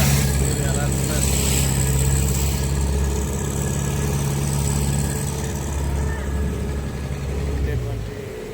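A boat engine runs steadily out at sea on a dawn fishing trip, a constant deep hum with a rough mid-range throb beneath hissing wind and spray, easing slightly near the end.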